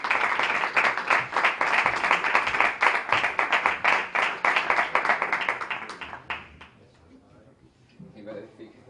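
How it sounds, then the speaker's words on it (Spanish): Strong, dense applause from a university audience at a flamenco event, loud and steady for about six seconds before thinning out into scattered claps and faint murmuring. "Diego Carrasco y a Faustino Núñez les pido un fuerte aplauso"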